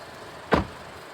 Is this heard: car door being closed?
yes